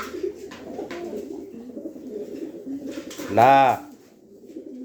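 Lakha pigeons at a market in Kurigram give a soft, low cooing, with one louder, fuller coo near the end, while someone talks over them.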